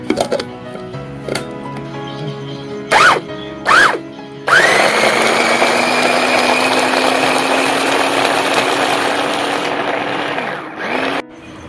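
A mixer grinder whirs loudly and steadily for several seconds after a couple of short pulsed bursts, then cuts off, blending a smooth paste for butter chicken.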